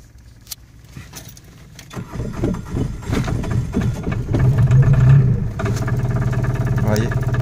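An MGO Highland X microcar's small engine cranks and starts in cold weather, catching quickly and then settling into a steady, close idle, with a faint rattle of keys at the start.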